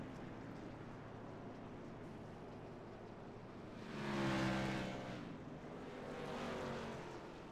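Race trucks rolling down the back straightaway behind a pace truck at Eldora, a low, distant engine drone that swells briefly as they pass, then fades back.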